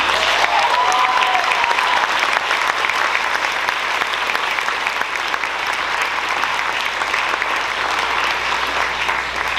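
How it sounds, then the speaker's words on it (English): Audience at a Mount Horeb High School senior scholarship ceremony applauding for Ella Peterson, dense, continuous clapping at steady volume for nearly ten seconds, with no voices over it. "please give a round of applause for Ella Peterson"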